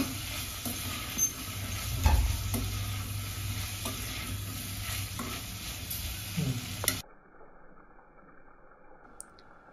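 A spoon stirs salted meat pieces for a Telangana vatti thunakala curry in a pan, with soft scraping and a light sizzle close by for about seven seconds before the sound drops to quiet room tone.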